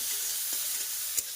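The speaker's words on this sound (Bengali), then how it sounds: "আর এই যে মৌটি মাছগুলো সামান্য লবণ হলুদ মাখিয়ে নিয়েছে, এগুলোকেও ভাজবো।" Small pond fish coated with salt and turmeric fry in hot oil, giving a steady bright sizzle with a few soft stirring knocks and one sharper clink near the end.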